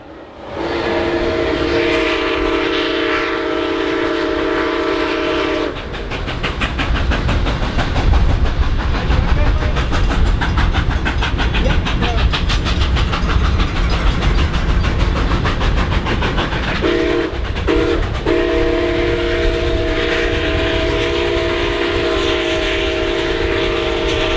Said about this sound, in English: we had a great opportunity on the train to hear the stack talk on the 765 without the wind interrupting